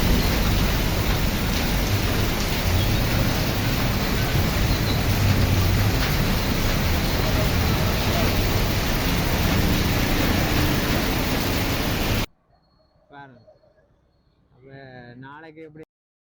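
Sudden heavy rain pouring down in Jaffna, a loud, dense, unbroken hiss of downpour lasting about twelve seconds, then cutting off abruptly to near silence and a brief voice.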